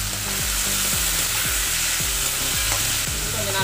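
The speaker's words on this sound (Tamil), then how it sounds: "இப்போ எண்ணெய் நல்லா காய்ச்சி வெங்காயத்தை சேர்த்துக்கலாம்." Two finely chopped onions fry in hot oil for a prawn thokku, giving a loud, steady, close sizzle with stirring scrapes throughout and no talk.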